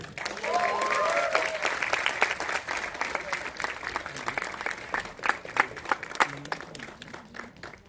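Audience applause for actress Anjali Barot, the film's heroine, swells as a dense, sustained round of clapping from a large crowd, then thins into scattered claps with a few voices underneath.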